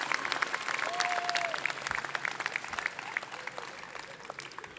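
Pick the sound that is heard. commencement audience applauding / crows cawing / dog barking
commencement audience applauding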